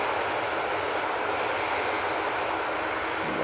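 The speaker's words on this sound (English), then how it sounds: "This is off to Paphos using the 787-8 Dreamliner." A Boeing 787-8 Dreamliner departing Manchester Airport for Paphos, its engines giving a steady, broad jet roar at even loudness throughout, heard from a distance with no voices.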